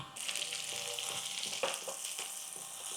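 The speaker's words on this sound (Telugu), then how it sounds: "ఉల్లిపాయ, పచ్చిమిరపకాయ కొంచెం వేగనిద్దాం." Sliced onion and green chilli fry in a pan with cumin seeds, giving a loud, steady, close sizzle and crackle for a few seconds with no talking.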